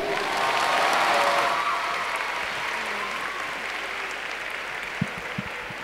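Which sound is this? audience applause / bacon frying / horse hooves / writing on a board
audience applause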